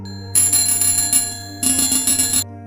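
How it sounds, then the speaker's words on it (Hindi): A bicycle bell rings out alone in two quick bursts of bright metallic trills, near and clear against quiet. "साइकिल की घंटी सुनाई दी।"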